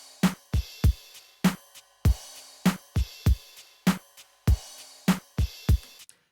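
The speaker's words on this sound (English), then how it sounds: "The first are these two crashes." Two crash cymbals from a drum-track kit, struck one after another in a steady pattern of about a dozen sharp, loud hits with short decays, heard alone and up close.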